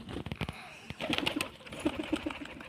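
Pigeons coo in a short repeated series of soft, low throaty calls on a cold, dewy morning, heard fairly close with some background noise.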